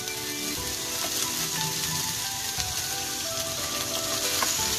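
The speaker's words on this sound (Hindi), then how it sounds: "हमारे गार्लिक सौते हो गए हैं, हम ऐड करेंगे कैप्सिकम" Capsicum hits sautéed garlic in a hot pan, giving a continuous bright sizzle and frying crackle with faint stirring scrapes, steady and close, with no voices.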